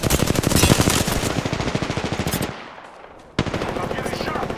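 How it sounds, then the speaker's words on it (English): Video game gunfire in Apex Legends: a loud, close, rapid automatic burst of evenly spaced shots, a brief lull, then the rapid firing resumes. "Shots fired at me."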